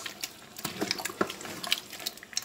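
Water poured into a large pot of haleem (daleem) mixture being prepared for slow cooking, restaurant style for about fifty people; a steady splashing pour with scattered sharper drips and spatters, fairly close and alone without talk.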